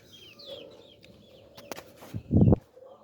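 Chickens in a backyard pen cluck softly while feeding in the morning, with faint bird chirps and a short burst of louder clucking near the end.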